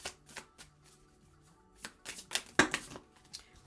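Tarot cards shuffled close up, a few quick riffling bursts with soft slaps and flicks as cards spill out, separated by brief quiet gaps.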